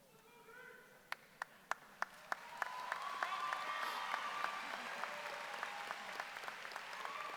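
Graduation audience at a high school ceremony applauding: a few sharp, isolated claps from nearby build into sustained, full crowd applause with a faint whistle or cheer rising through it.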